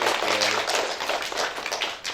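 An audience applauds a music award winner at a sixth grade band event, a steady wash of clapping throughout at moderate loudness, with no talking.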